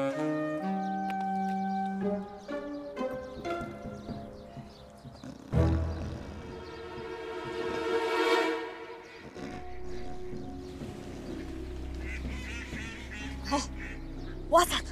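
Ducks quack during a duck-hunting outing in a mix of tonal calls and harsh bursts, fairly faint and uneven, with people's voices occasionally heard.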